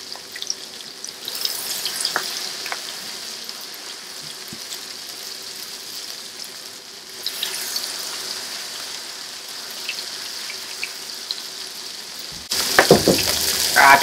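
Potato pancake batter for raggmunk spooned onto a hot griddle beside frying pork, giving a soft, steady sizzle that swells midway and ends in a sudden louder burst of crackle.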